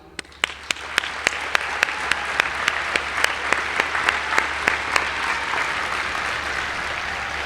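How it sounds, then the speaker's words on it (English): A large audience applauds at a US Air Force basic military training coin and retreat ceremony. The steady, dense clapping carries sharp, regular accented claps and continues evenly throughout. "I ask that you give a round of applause to this dedicated team of professionals"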